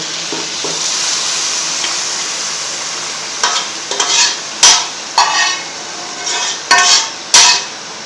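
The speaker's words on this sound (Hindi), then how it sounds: "अब इसमें ऐड करेंगे कद्दू शरीफ।" Mashed bottle gourd stirred into hot masala in a pan for chicken lauki curry gives a steady sizzle, then several loud scraping stirs of a spoon against the pan toward the end, with no talking.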